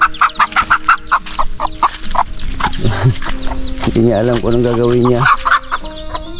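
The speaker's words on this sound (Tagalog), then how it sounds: "oh, yung mga manok, nandito yung mga manok." Chickens in a large fenced yard, clucking loudly and close in rapid choppy bursts, with a longer drawn-out squawk partway through and someone talking among them.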